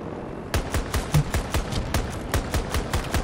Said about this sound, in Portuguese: eu não soltei o botão de tiro nem um segundo, cara